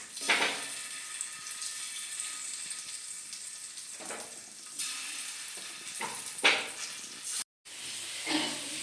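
Marinated pieces laid one by one into hot oil, giving a steady close sizzle with a few louder bursts and clatters of a pan or utensil.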